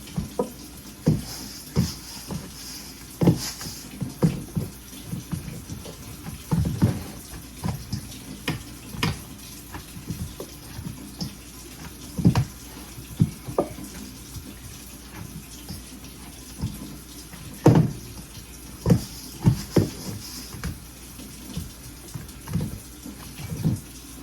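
Tap water runs steadily into a pot while making salmon soup, a continuous close splashing wash punctuated by frequent louder splashes and knocks as the stream hits water and metal.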